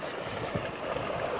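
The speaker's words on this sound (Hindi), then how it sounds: "ये दूसरी नाली का पानी यहाँ से जा रहा है" Water from the second irrigation channel in a Pakistani village runs steadily with a soft continuous gurgle and trickle, close by and fairly quiet, with no one talking.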